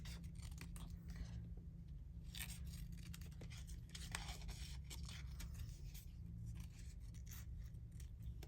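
Scissors cutting out paper ephemera, around the outer edge and into the details, giving a rapid run of crisp snips and paper rustles, close and steady over a low background hum, no talking.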